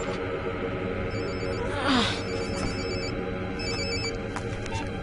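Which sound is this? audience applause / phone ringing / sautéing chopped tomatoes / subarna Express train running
phone ringing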